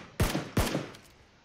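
Gunfire in the video game PUBG comes as two sharp, loud shots about a third of a second apart, each with a short booming tail, then fades to quiet.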